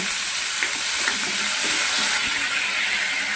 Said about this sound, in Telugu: ఆయిల్ కొంచెం వేసాను కొంచెం చికెనే కొద్దిగా ఫ్రై చేస్తున్నాను